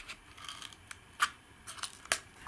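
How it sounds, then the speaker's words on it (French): A pair of scissors snips small paper triangles close by, a few quiet, sharp cuts and light rustles spaced irregularly against a near-silent background. "Je découpe les petits triangles avec une paire de ciseaux."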